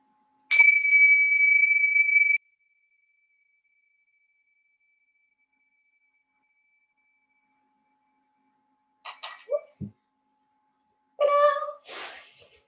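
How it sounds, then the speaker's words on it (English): A single bell struck once at the opening of a meditative council gathering, ringing out clearly with a bright, sustained tone that fades over about two seconds, followed by silence and then brief speech. "I'm just going to ring this bell and we will enter into our council."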